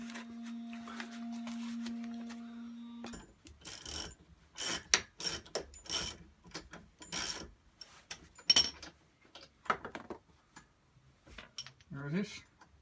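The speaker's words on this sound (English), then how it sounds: "That bolt down there, you have to take that loose." A hand wrench ratchets and clanks while loosening a bolt on a 1988 Porsche 911 gearbox during seal replacement. Irregular metallic clicks and knocks follow a steady hum, with a voice heard briefly.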